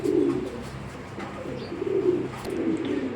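Red checker racing pigeons, a pair, cooing in soft low repeated phrases close by, with faint background rustle and no talk.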